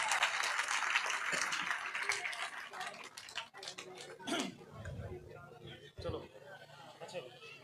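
Applause from a crowd at an election rally, rising after an announcer calls for clapping, with the clapping mixed under steady crowd chatter and an amplified voice speaking over it.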